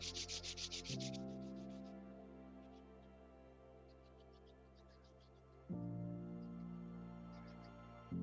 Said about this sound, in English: Take your hands, just rub them together.